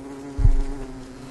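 Bees in the video game Don't Starve give one short, low buzzing swell that fades after a moment over a steady game-music drone.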